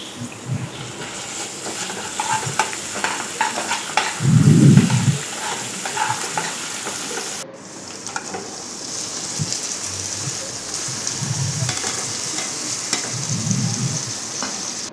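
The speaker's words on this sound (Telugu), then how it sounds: "కట్ చేసుకున్న ముక్కలు వేసుకొని ఇలా ఫ్రై చేసుకోవాలి" Cut beetroot and potato pieces fry in oil with onion, spices and ginger-garlic paste in a pan, giving a steady sizzle with occasional louder scraping stirs of the spatula, close and continuous.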